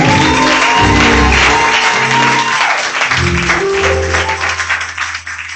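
A church congregation at a Sunday worship service claps and cheers loudly in sustained applause, with crowd voices and a low musical drone underneath, the clapping thinning toward the end.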